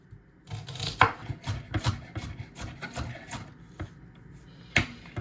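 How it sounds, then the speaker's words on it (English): A knife chops an onion into small pieces on a board, giving irregular sharp knocks with scraping between, close and moderately loud, with no talking. "I'm gonna chop this onion up small and add onion to it as well"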